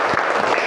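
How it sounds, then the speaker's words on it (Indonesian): A short burst of clapping from a group, loud and close, lasting under a second. "Tepuk tangan untuk Femi."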